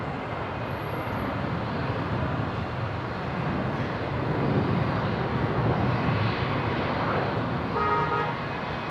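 A Qantas airliner rolls for takeoff at Brisbane Airport, producing a broad, sustained jet roar at moderate distance that swells slightly partway through and holds steady for about nine seconds.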